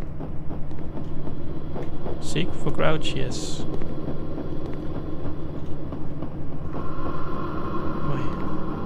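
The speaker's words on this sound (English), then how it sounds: "Sounds like a train, actually." Ominous rumble in the video game Erased Backrooms, a continuous low, train-like drone with a steady hum and faint rhythmic clatter, under a player's voice talking.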